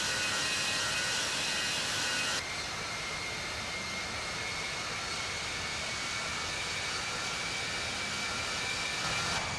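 A Virgin Atlantic Airbus A340-600 takes off at London Heathrow with a steady broadband jet roar, continuous and fairly loud, easing slightly after the first couple of seconds.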